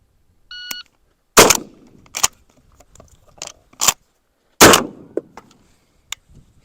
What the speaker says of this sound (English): we're going to fire one shot, do a slug changeover, and then fire that slug